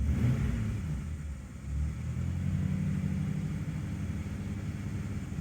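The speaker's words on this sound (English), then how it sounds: "I'll give it a little rev here." A car engine gets a quick rev from idle, a low rumbling drone that swells briefly and then holds steady, close by, with no voices.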